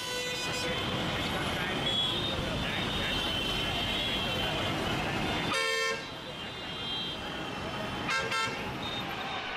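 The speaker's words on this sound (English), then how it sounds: "road traffic sounds," Busy road traffic rumbles steadily while car horns honk, one long blast midway and another shorter toot near the end.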